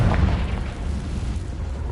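A fiery Confringo spell going off in a Harry Potter video game gives a deep, rumbling boom that hits at the start and then rolls on as a low, fading roar for about two seconds.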